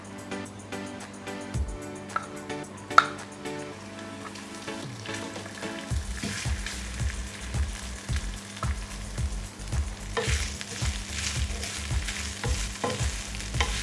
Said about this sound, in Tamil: தேங்காய் ஓரளவுக்கு வறுபட்டுருச்சு